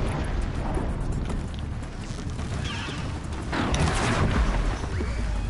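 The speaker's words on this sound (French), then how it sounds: "Une fois que le feu, en fait, a touché le réacteur, ça explose de ouf." Reactor explosion in the video game Horizon Zero Dawn, heard as a loud, sustained rumbling blast with crackling debris. It swells again toward the end, with no talk over it.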